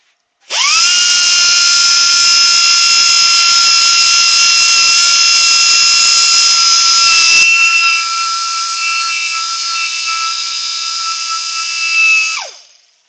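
A power sander runs with a loud, steady high-pitched motor whine that shifts slightly lower partway through, then winds down and stops near the end.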